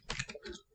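A few quick, soft keystrokes on a computer keyboard, close and brief.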